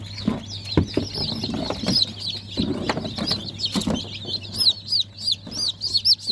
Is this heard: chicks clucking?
yes